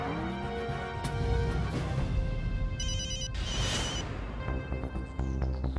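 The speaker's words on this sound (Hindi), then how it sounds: "पांडे साहब प्लीज, मेरा फोन है, मत उठाना प्लीज" A short electronic mobile phone ringtone trills over loud, dense background music in a TV sitcom scene, rising briefly above the mix.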